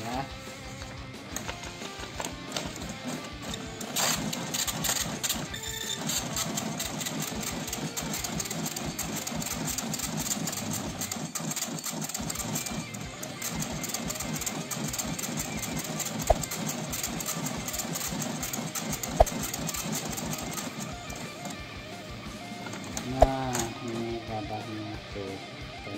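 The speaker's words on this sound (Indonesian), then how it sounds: "Nah, ini kita print test pack langsung." A Tally T5040 passbook dot matrix printer, suspected of broken pins, prints a test page with a dense, continuous buzzing chatter of rapid pin strikes, with speech heard over the printing.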